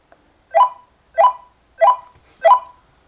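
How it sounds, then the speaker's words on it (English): Four short electronic beeps from a Motorola TLKR T80 walkie-talkie at an even pace, about two-thirds of a second apart, clear and close with silence between them. "it's sending out a beep tone"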